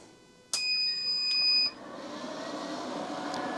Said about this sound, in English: every time you turn this thing on, it has a beep